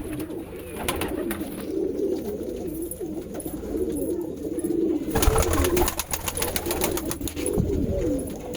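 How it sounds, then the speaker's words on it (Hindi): Pigeons coo repeatedly in low, throaty burbles, close by, with soft rustling and scattered clicks in the background and no voices. "ये हमारा नगीने वाला कबूतर है, उधर जाने के लिए परेशान है।"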